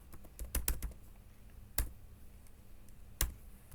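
Keys on a computer keyboard clack in a few quick clusters and isolated taps while PHP code for an inventory management system backend is typed, close and fairly quiet with no talking.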